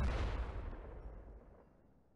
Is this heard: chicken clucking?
no